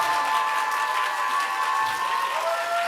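An audience in a hall at a university science contest claps loudly and continuously, a dense sustained burst of applause with a faint crowd murmur beneath.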